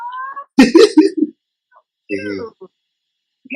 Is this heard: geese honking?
no